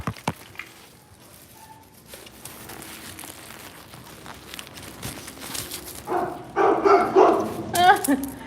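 A big dog barking outside, a few loud barks clustered near the end after quieter rustling, with a voice talking briefly beforehand.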